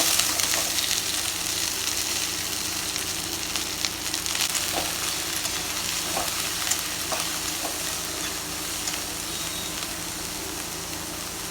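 Onions frying in a pan with dried red chillies and garlic for a Chhattisgarhi bhaji dish, a steady close sizzle throughout with a few faint stirring clicks and no talking.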